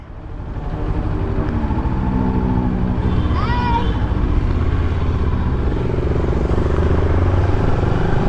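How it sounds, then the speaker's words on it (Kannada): A Kawasaki motorcycle rides along a highway, its engine a loud, steady low roar with constant wind rush from start to finish. A brief high chirp rises once midway, with no talk over the ride. "ಫುಲ್ ಟ್ಯಾಂಕು ಪೆಟ್ರೋಲು ಇವಾಗ ಗಾಡಿ ಓಡ್ಸೋಕೆ ಒಳ್ಳೆ ಮಜಾ ಇರ್ತದೆ"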